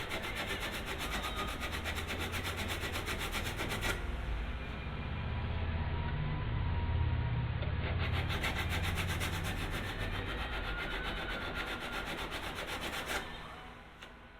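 A hand sanding block scrubs steadily across a wooden workpiece in continuous abrasive strokes, a close, even rasping that keeps going for the whole stretch without pauses.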